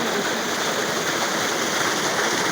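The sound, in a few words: clear water flowing from a village tube well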